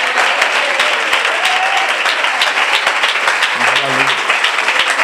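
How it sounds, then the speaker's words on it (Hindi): A church congregation at a pastor's service applauds continuously, a dense, loud wash of many hands clapping with voices mixed in underneath. "तालियां तो बजाओ।"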